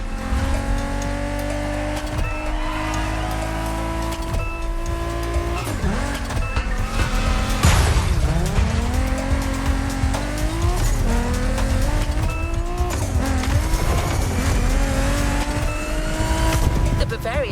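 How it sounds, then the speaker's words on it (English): BMW Z4 M40i roadster in the racing game The Crew Motorfest, its engine droning loud and steady with shifting pitch while tires squeal through repeated skids, with a voice talking over it. "We have prepared a classic for you from a very famous German brand, the BMW Z4 M40i."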